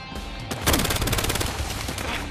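Rapid automatic gunfire from a gun in the video game Battlefield Hardline, a loud continuous burst of closely spaced shots with no pause.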